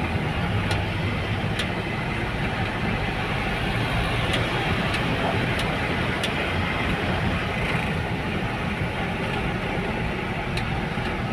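A car engine hums steadily under road and traffic noise during manual driving practice, with clutch released and gas applied, a continuous close drone rather than distinct revs.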